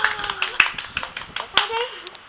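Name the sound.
child clapping hands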